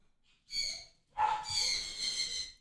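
Dogs bark nearby in two sharp, fairly loud bursts, the second longer and rougher, with a quiet gap between them and no speech.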